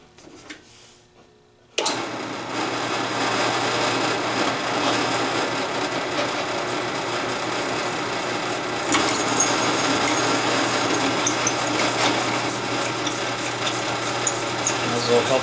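A hand drill bores out punched holes in metal stock for a handmade bathroom grab bar, a steady whirring grind that starts abruptly after a brief quiet moment and then runs on without a break.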